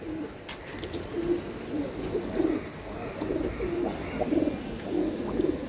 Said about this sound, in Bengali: এই দেখেন চিলা কবুতর, কবুতর দেখেন